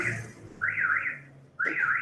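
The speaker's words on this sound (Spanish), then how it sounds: "Una alarma muy dura." A harsh electronic alarm blares in two loud, buzzing bursts separated by a short pause, sounding alone without talk.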